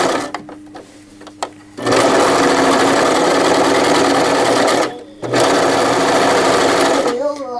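A sewing machine runs a regular straight stitch along a hem, a loud close whirring buzz in two long bursts separated by a short pause, with faint handling noises before it starts.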